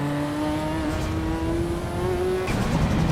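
Race car engine in the Assetto Corsa EVO racing game, revving loud and steady with a rising whine, then a sharp gear change near the end and the engine pulling on strongly, with no talk over it.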